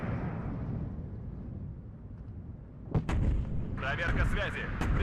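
Mortar artillery fires in the video game WARNO, deep booming rumble under a low, continuous battle din, with a sharp blast near the middle and radio-style game voices chattering over the later part.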